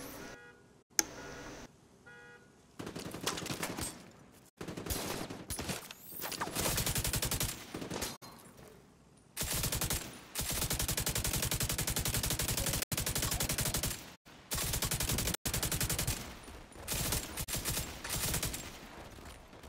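Sustained automatic gunfire in the shooter game The Division 2 comes as long, dense bursts broken by short gaps, loud and close throughout with no talk over it.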